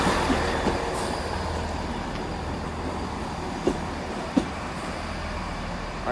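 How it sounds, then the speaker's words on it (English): A Great Western Railway train bound for Plymouth pulls out of Exeter St David's station, a steady low rumble of wheels and carriages with a few sharp clanks and squeals, fairly close and continuous, with no talking. "Great Western Railway service to Plymouth is leaving"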